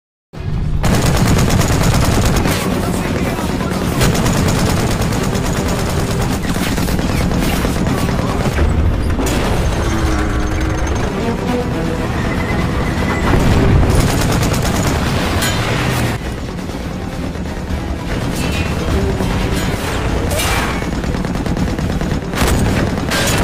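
A WWII film tank battle between Soviet soldiers and German tanks: loud, continuous machine-gun bursts mixed with booming explosions and crashes, dense and unbroken from start to finish.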